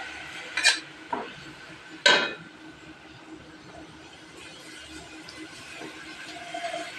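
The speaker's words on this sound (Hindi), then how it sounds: "बर्तन साफ करते हैं।" Metal pots, pans and utensils clatter in a home kitchen while cooking potato chicken, with a few sharp close clanks near the start and quieter scraping and clinks afterwards, no talk.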